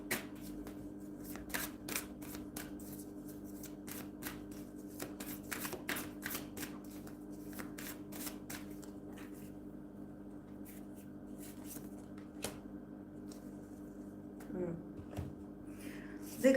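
Tarot cards shuffled in quick, papery riffles during a live tarot reading, with a steady low hum behind the soft repeated flicks and snaps.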